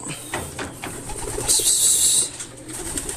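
Racing pigeons coo softly around a loft, low throaty murmurs repeating under a faint rustle, with a brief higher whirr in the middle of the clip.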